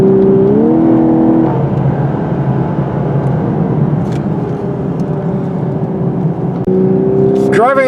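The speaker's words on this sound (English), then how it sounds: "Once you get rolling, this vehicle moves up pretty good for a 6-cylinder." A 2022 Lexus LC500h hybrid six-cylinder coupe accelerates, its engine tone climbing and shifting in pitch steadily through the cabin, with a rising sweep near the end.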